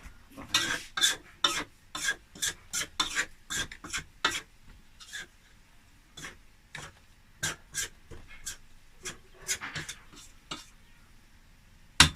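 Spatula stirring and scraping food in a pan while making bouillette, a series of brisk, close scraping strokes repeating irregularly throughout, with occasional short pauses and no talk.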